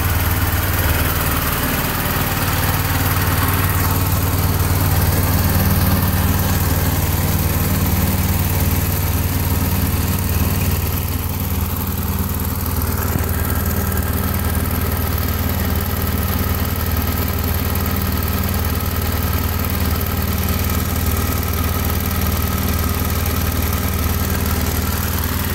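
A 24 volt generator engine runs steadily under load on a cold morning, a loud, constant droning hum with a low rumbling tone and no pauses throughout.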